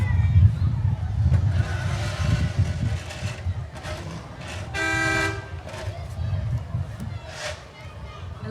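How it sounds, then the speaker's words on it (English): A towing and recovery company's tow truck in a community parade blares its horn in a couple of loud tonal blasts, with crowd chatter and engine rumble around it. "They're honking the horn at the person in front of them"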